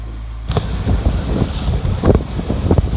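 Strong Force 6 headwind roaring and buffeting the microphone aboard a sailboat off the southwest corner of Lesbos, with rushing water and gusts throughout.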